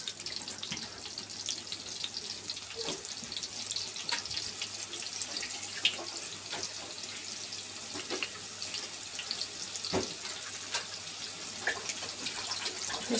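Water runs steadily from a tap into a kitchen sink while rice is prepared, a constant soft splashing hiss with no pauses and a few faint clinks of handling.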